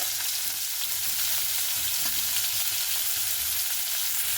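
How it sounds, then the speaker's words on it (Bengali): Chopped onion frying in hot oil, a dense, loud, continuous sizzle close at hand with faint stirring underneath, steady throughout without talk. "এখানে আমি আগে থেকে পেঁয়াজটা কেটে রেখেছিলাম এবার আমি দিয়ে দিচ্ছি ওই তেলেই"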